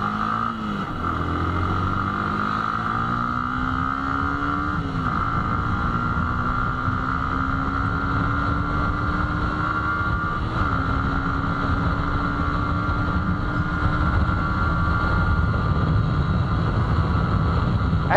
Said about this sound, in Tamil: பைக்கை ஸ்டார்ட் பண்ணலாம்.